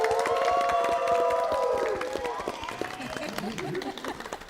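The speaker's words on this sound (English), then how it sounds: "So I want to give a big round of applause for her once again." Studio audience at a reunion episode of a dating game show applauding and cheering, a loud dense wash of clapping and voices that gradually thins out toward the end.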